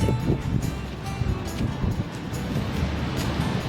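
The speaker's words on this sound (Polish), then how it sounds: "Patrzcie, ocean otwarty." Wind buffets the microphone at an Australian island beach, with the broad wash of open-ocean surf rolling underneath in steady gusty rumbles.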